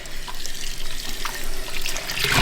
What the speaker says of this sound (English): So we just rinse, just get the blood out of here.